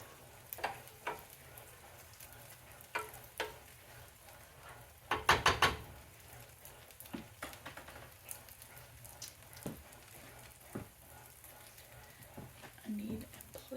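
Sausage frying in a pan, a soft constant sizzle with scattered crackles and a louder burst of spatter midway as the food is flipped, sharp clicks of the utensil around it and a voice talking at times.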